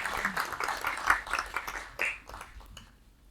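Scattered clapping from an audience at a labor union launch ceremony, moderately loud at first, then thinning and fading out over about three seconds.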